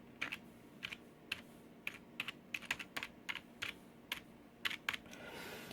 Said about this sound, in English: we are going to see how it sounds. So I'm going to type just something basic.